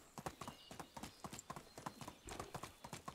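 Horse hooves clip-clopping in the medieval game Medieval Dynasty, a quick, steady trotting rhythm of sharp close hoof strikes, fairly quiet overall, with no talk.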